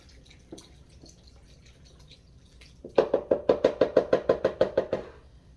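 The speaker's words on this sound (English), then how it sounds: "And then I'll pour the rest of the beef broth in." Beef broth poured into a crock pot of beef tips, arriving as a quick, steady run of a dozen or so rhythmic glugging splashes after a few quiet seconds, close and fairly loud.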